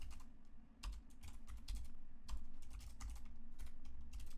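Fast, steady clicking of a computer keyboard as code for a function is typed, close and clear over a low constant hum, with bursts of keystrokes and brief pauses.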